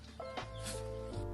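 A laying hen clucks in a mountain farmyard, with a few loud, close, tonal cackles over a steady low hum.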